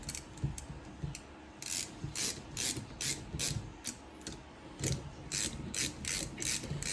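A ratchet tightening 13 mm bolts on a Baja build: rapid clicking pawl strokes in repeated short bursts with brief pauses, close and clear over a low background hum.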